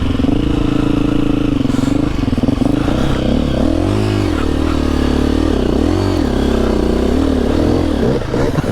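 KTM 350 four-stroke dirt bike ridden through snow without studs, its engine loud and close, throttle rising and falling in repeated revving surges with some clatter.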